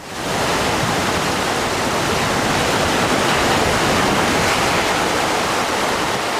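Tsunami wave striking a resort on a Thai island, a steady, loud, roaring rush of water like a heavy waterfall that swells in and stays constant throughout.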